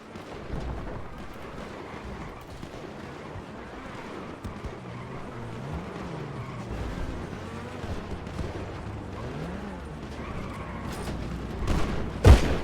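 Gunfire and explosive booms in a GTA V team fight, a dense continuous rumble of shots and engine-like noise with a loud burst near the end, with no clear speech.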